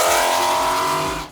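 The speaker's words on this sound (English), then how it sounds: "you also have the extreme exhaust, which you sent us a sound clips, loud as hell" A 2015 Ford Mustang GT engine roars loudly through an aftermarket extreme exhaust, a brief revving blast with a raspy tone that cuts off abruptly.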